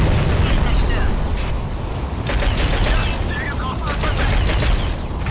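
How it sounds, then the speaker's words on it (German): A howitzer fires in the underwater video game Aquanox, heavy booming blasts over a dense, continuous rumble, loud throughout, with faint crackling bursts on top. "Okay, dann mit der Haubitze zuerst mal die Leute wegholzen."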